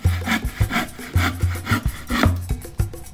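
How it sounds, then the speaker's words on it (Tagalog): A manual hand saw cuts through wood for the base of a headphone stand, giving repeated rasping back-and-forth strokes in an even rhythm, close and fairly loud with no talking. "Yung pinaka-base ng stand, kinut ko by hand or yung manual saw."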